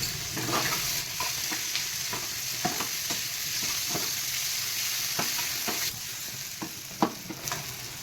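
Ginger, cumin and pepper paste frying in a pan for a small-fish curry, a steady sizzle with scattered clicks of stirring throughout.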